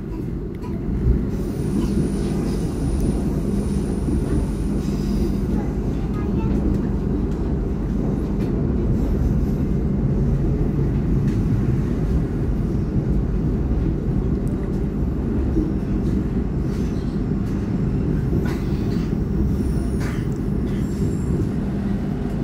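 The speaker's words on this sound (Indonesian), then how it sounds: "Ketika kereta sudah melintasi jembatan Renville, artinya kereta sebentar lagi akan tiba di stasiun Kebumen." Fajar Utama economy train running across the Renville bridge near Kebumen, a steady loud rumble of wheels on rails and rolling stock that holds for the whole stretch without a break.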